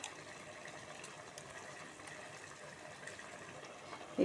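Water pouring into a mixer jar to rinse it out for a coconut milk rasam, a soft continuous splashing trickle close by, with no talking.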